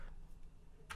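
Faint taps on a computer keyboard during web coding, two soft keystrokes early and a sharper clack at the end, with no voices.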